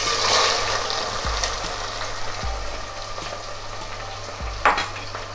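Onions frying in oil with cinnamon and cloves for chicken biryani give a steady close sizzle, broken by a few scraping stirs of a spoon in the pan, with a low hum underneath.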